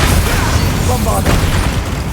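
A Bombarda spell explosion in Hogwarts Legacy, a loud booming burst with a rumbling low end and a sharper crack partway through, set in a video game.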